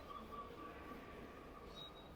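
A Berlin underground tube train rumbles faintly and steadily, with thin high squealing tones drifting over the low drone inside the station.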